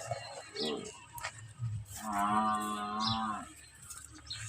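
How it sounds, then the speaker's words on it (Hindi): A water buffalo lets out a long, deep moo close by, preceded by some shuffling and faint background noise. "ये अपनी भैंस है।"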